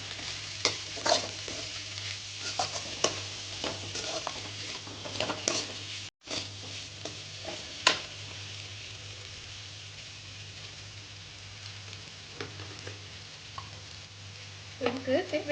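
Potatoes and onions sizzle and fry steadily in a pan while a utensil stirs and scrapes in irregular clattering bursts, fairly close.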